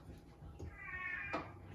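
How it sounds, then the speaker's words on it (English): A single cat meow, close and fairly soft, rising then falling, with faint background noise around it. "That is our cat."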